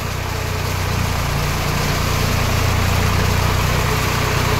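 An old-model Swaraj 744 FE tractor drives a rotavator, its diesel engine holding a steady, loud, continuous drone with a low rumble and no pauses or voices.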